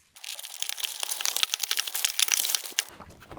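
A sample package of pink silk PLA 3D printer filament is cut open, giving close, continuous crinkling and crackling of plastic wrap for about three seconds.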